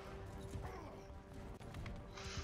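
Horse hooves in the medieval battle game Mount and Blade II Bannerlord clop faintly and unevenly beneath a steady hum of game ambience, with brief scrapes and a soft whoosh near the end.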